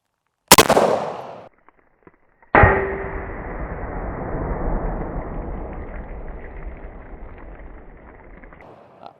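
A 7.62x51 rifle is fired twice at a 15-year-old Level II body armor panel. Each shot is a loud, sharp report, and the second carries a long, slowly fading ringing tail.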